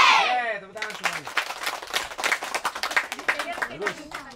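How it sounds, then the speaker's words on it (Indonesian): Rhythmic, uneven hand clapping from a group of children at an English-learning session in West Sumatra, Indonesia, following a cheer, with children's voices and chatter mixed throughout. "Tepuk tangan semuanya."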